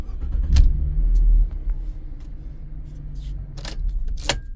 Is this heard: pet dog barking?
no